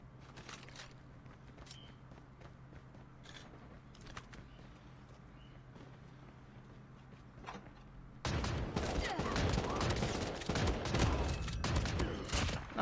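Gunfire in the mobile battle royale game COD Mobile, faint distant shots and footsteps at first, then a sudden loud stretch of rapid close firing and explosive noise.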